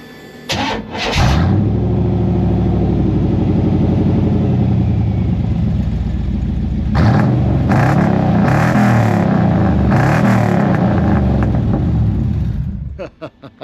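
A car fitted with a Tom's Refurb's Speedy Snaps exhaust cranks and fires up, then idles with a deep, throaty rumble, with several loud revs partway through, close by.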